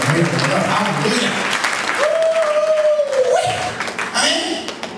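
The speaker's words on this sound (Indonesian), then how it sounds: "Yang setuju berikan tepuk tangan dan beri haleluya." A church congregation claps and applauds steadily during a worship service, the broad clapping continuing throughout while a voice speaks or calls out over it.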